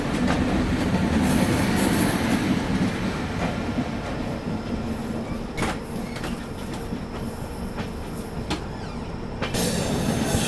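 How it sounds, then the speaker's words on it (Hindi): The Lichchavi Express rolls into Anand Vihar Terminal with a steady loud rumble of wheels, rhythmic clickety-clack over rail joints and occasional brake squeal, sustained throughout without voices. "फाइनली अपनी लिच्छवी एक्सप्रेस अराइव कर रही है आनंद विहार टर्मिनल पे।"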